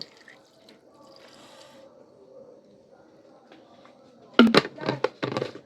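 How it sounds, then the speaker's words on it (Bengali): Hot water is poured into a pot of vegetable soup, a quiet murmur giving way to short, splashy bursts of pouring near the end. "এখন সিদ্ধ হওয়ার জন্য গরম পানি দিয়ে দিব।"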